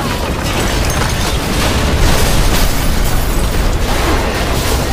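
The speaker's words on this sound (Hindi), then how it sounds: "लियोन पेट्रोल पंप को ब्लास्ट कर उन लोगों की हेल्प करता है" A petrol pump blows up in Resident Evil 6 during a zombie fight, a dense sustained roar of blast and rumble filling the full five seconds, loud and unbroken, with no speech over it.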